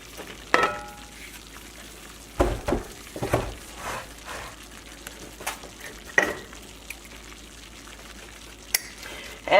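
Flour browning in a pan for water gravy, with a soft, steady sizzle and frying hiss, broken by occasional scraping knocks of a utensil stirring, close and fairly quiet.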